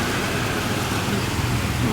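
Rain falls steadily as a dense, even hiss that fills the whole short stretch, with no breaks or distinct drops standing out.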